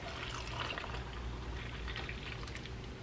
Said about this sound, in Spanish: yo voy a poner aquí mi soya y le voy a agregar agua caliente